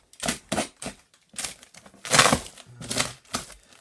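A blade slices and tears through cardboard and plastic packing on a Dyson DC05 vacuum box in short, uneven bursts of crackling and scraping, close by and fairly quiet.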